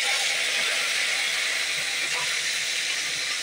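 Chopped garlic and a handful of curry leaves sizzling in hot oil for a potato masala fry, a loud, continuous bright hiss close up with no pauses.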